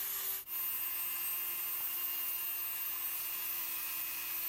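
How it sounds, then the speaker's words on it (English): A Dremel rotary tool fitted with a cut-off wheel grinds through a metal axle, producing a steady, bright, high-pitched whine that runs continuously and close, with one brief dip near the start. "I use the Dremel tool with the cut-off blade"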